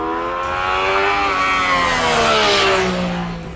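A 2014 Yamaha FZ-09 engine revs hard and close, rising through the range with a strong, continuous mechanical howl and no talking over it.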